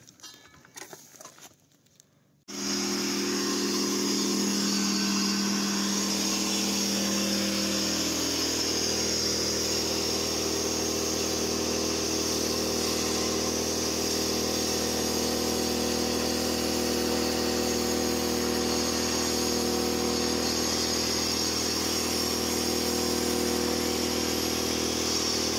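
After a brief quiet start, a 2.2 kW Makita angle grinder powered by an inverter generator whines up and runs steadily at a loud, constant pitch.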